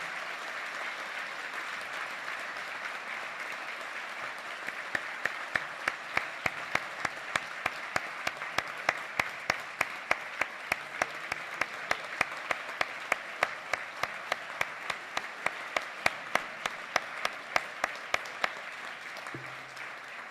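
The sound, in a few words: audience applause for Superior Court judges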